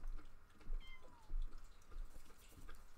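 A kitten meows in The Sims, a few short cries over a low rumbling game background, fairly faint and without talk.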